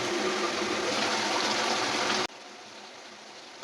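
Water poured into a cooking pot of chana dal (split chickpeas) with potatoes, a steady broadband splashing rush lasting about two seconds before cutting off to quiet kitchen hiss.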